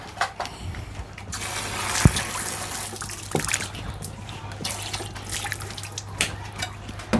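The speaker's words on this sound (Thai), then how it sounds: "ล้างมือก่อน" Tap water runs steadily into a sink while hands are washed outdoors, a continuous splashing stream with small knocks and drips, fairly close and without talk.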